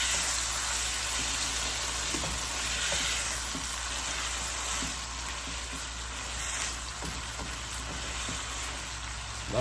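Corned beef brisket sizzles steadily in a hot pan just after being flipped, a loud, close, continuous frying hiss with occasional small pops and scrapes.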